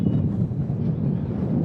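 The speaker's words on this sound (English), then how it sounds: "Woo, it's windy." Gusty wind buffets the microphone at an outdoor rugby invitational, a continuous low rumbling roar with uneven surges and no voices.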